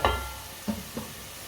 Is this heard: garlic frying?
yes